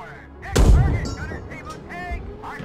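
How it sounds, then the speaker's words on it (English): A tank cannon fires in the PC game Gunner HEAT PC, one loud booming blast with a short rumbling tail, while a voice talks over the game sounds. "We got some tanks on the left that are firing out at us."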